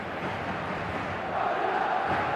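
A stadium crowd in eFootball roars as a steady, close wash of many voices, swelling slightly toward the end.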